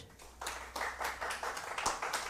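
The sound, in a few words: audience applause welcoming a speaker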